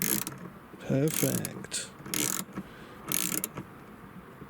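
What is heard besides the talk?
ratchet with 4mm socket turning a fastener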